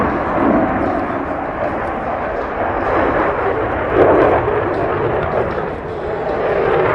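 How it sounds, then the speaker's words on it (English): An Italian Air Force Eurofighter Typhoon flies a max-performance turn at the 2013 international air show in Radom, Poland. A loud, continuous roaring rumble swells and fades slightly as the jet passes. "And now in front of you, from left to the right, Eurofighter Typhoon. It's performing a max performance turn."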